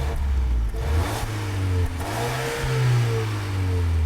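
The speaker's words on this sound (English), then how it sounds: "the T5 turbocharged 2-liter 4-cylinder that offers up 248 horsepower and 258 pound-feet of torque" A 2019 Volvo XC40 T5 R-Design with a turbocharged 2-liter four-cylinder engine revs and accelerates close up, the pitch rising and falling through several surges, with no talk.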